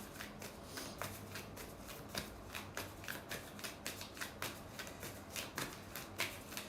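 Quiet, close-up shuffling of a deck of cards, with repeated soft riffles and flicks in an uneven rhythm and no talking.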